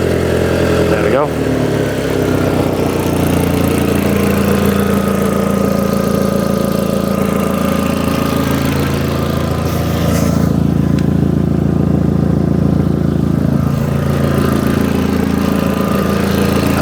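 An Audi TT engine idles steadily after a cold start, a continuous low hum with a faint whine that runs on without a break as it settles.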